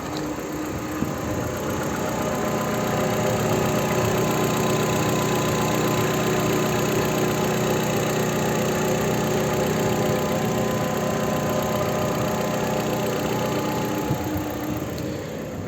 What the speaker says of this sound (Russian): Автомобиль запускается.